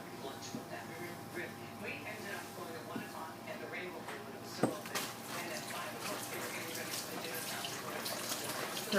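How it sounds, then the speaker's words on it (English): Hands rinsed under a running kitchen tap after rubbing marinade into a beef brisket, a steady close wash of splashing water with a brief louder knock midway and speech-like sounds mixed in. "I'm going to rinse off my hands here"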